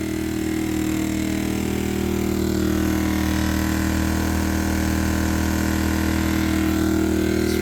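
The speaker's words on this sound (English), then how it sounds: "Listen how quiet that little generator is." A small generator runs inside a Daihatsu turbo van, giving an even, constant engine hum with a low drone that stays steady and unbroken.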